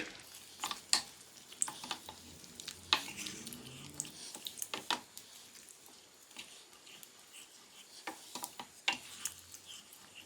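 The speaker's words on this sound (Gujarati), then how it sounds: "બધાને સરસ રીતે ફેરવી દઈએ" Quiet sporadic clicks and scrapes of a spoon stirring chicken in a pan over a faint sizzle, the taps uneven and close by.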